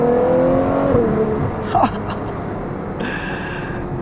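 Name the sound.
Ferrari Monza SP2 pulling away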